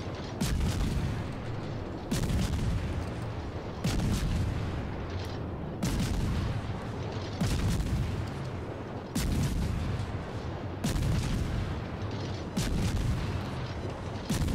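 Friesland destroyer's deck guns in World of Warships fire in rhythmic salvos, about eight loud booming volleys spaced roughly two seconds apart, each with a heavy rumbling tail, with no voices over them.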